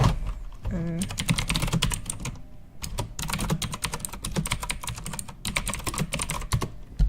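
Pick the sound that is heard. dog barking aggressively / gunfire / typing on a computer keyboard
typing on a computer keyboard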